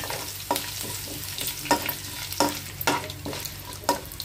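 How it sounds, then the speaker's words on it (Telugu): Lentils frying in hot tempering oil for Andhra-style bottle gourd dappalam, a steady soft sizzle broken by repeated scraping stirs of a spoon in the pan, close and clear with no voices. "ఇలా బాగా వేయించుకోవాలి"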